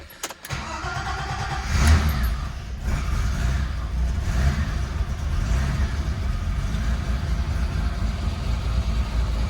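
BMW E30 325iS six-cylinder being started with throttle, catching and settling into a rough, uneven idle with a steady low engine drone close by; no talking.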